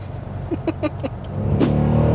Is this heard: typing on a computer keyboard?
no